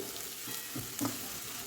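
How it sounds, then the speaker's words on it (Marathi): Mutton kheema fries with masala in a pan, giving a soft continuous sizzle with a couple of faint stirring scrapes. "मी दोन मिनिट मस्त फ्राय करून घेतलेला आहे मसाल्यासोबत"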